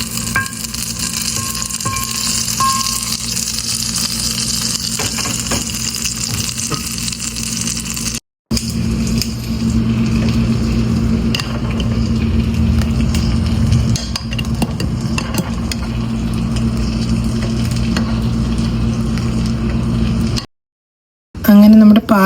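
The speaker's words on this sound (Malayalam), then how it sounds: "നമ്മൾ 1 ടീസ്പൂൺ നെയ്യ് ഒഴിച്ചിട്ടുണ്ട്. നമ്മുടെ ഇനി മുന്തിരിയും നമ്മുടെ ബദാമും വറുത്തെടുക്കാം." Grapes and almonds roast in a teaspoon of ghee for payasam, giving a loud, steady sizzle and frying crackle with stirring scrapes, briefly cutting out twice, with faint talk at moments.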